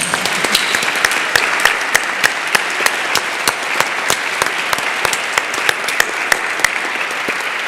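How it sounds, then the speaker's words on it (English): Sustained audience applause fills a conference hall after a Nobel Conference 2025 panel discussion, dense steady clapping with sharper individual claps standing out, loud and continuous throughout. "Let's give them a round of applause"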